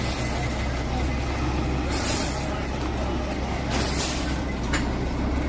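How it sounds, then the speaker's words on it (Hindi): A cement truck arriving at a residential driveway construction site in Canada, its engine rumbling steadily while air brakes release in several sharp hissing bursts. "ट्रक आया हुआ सीमेंट का।"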